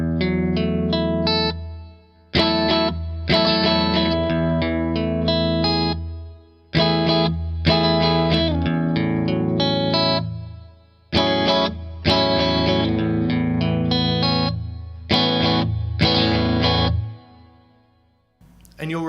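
Electric guitar with chorus and effects slowly strumming a chord progression, four ringing phrases separated by short pauses, close and clear.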